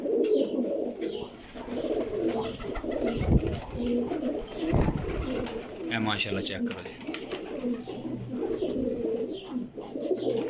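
Large pigeons coo steadily in a loft, low throaty calls repeating throughout, while someone talks over them nearby.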